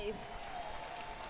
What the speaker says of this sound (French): Put your hands together. Applaudissons pour Jésus-Christ.